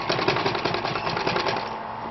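A sewing machine stitches a blouse seam along a princess-dart bustier line, a rapid, steady needle rattle at close range running without a break, with no talking over it.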